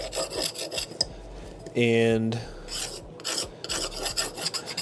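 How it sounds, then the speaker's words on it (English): Sandpaper rasps back and forth against a guitar bridge at a repair bench, a steady run of quick scratchy strokes broken by a brief tonal squeal midway, with a short spoken word. "that allows the sandpaper to just knock down the outside edges."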